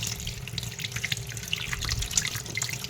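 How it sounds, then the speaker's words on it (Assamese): Small fish being rinsed clean by hand under a running kitchen tap, a steady splashing water stream with soft drips and handling noises throughout, close and fairly quiet, no voices. "মাছখিনি মই ভালদৰে এনে ধুই পৰিষ্কাৰ কৰি ল'লোঁ"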